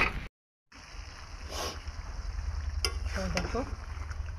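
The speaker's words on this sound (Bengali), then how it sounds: "মাংস কষাচ্ছি।" Meat being sautéed (kosha) in a pan for a home-style meat curry, a steady close sizzling hiss with scraping stirs after a brief silent break.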